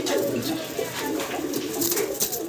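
A pair of blue barless German Beauty Homer pigeons coo softly and keep it up through a short, busy stretch of background noise.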